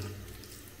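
Water runs steadily from a bathroom tap with a small shell-shaped spout, a continuous close splashing hiss with no voices.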